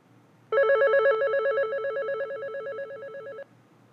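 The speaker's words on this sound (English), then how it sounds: "If we press the volume button, we can set the ringer" A Panasonic KX-TGM450S cordless phone handset plays its ringer tone, a single clear electronic warbling melody of about three seconds, moderately quiet and alone.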